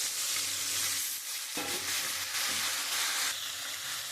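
Chopped vegetables sizzling in hot oil with ginger in a pan, a loud close hiss with a sharp burst as they are added and stirred, steady crackle with no voice.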